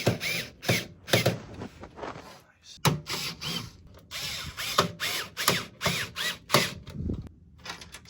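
Fan screws being driven into a PC case, a series of short scraping, ratcheting turns in uneven bursts, close and fairly loud, with brief pauses between twists.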